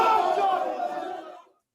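A boxing arena crowd roars out a loud rallying chant. The shouts are full and close, then fade quickly into silence after about a second and a half.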